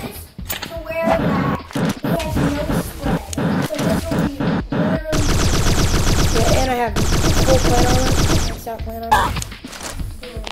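Bursts of rapid gunfire from the Project Marlin weapon in a 1v1 Hunter match of a video game, loud and near, with dense sustained volleys between shorter shots and game sound effects.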